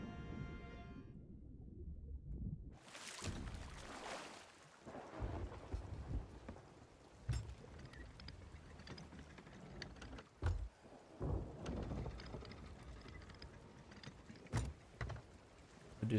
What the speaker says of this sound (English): Since the storm's rolling in.